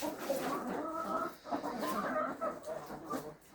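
A flock of backyard hens clucking softly and continuously at close range, murmuring calls overlapping in a quiet outdoor setting.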